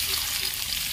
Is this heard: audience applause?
no